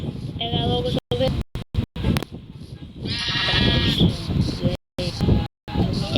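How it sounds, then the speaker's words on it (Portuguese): Sheep bleat in a Minecraft-style video game, several wavering cries over rough, windy background noise with gaps of dropout, while someone speaks Portuguese. "Essa é a última ovelha que eu mato"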